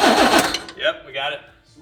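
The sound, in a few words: abandoned 80s lowrider engine cranking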